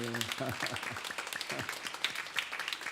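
A church congregation at a Sunday service applauding, a dense wash of clapping under a speaking voice throughout.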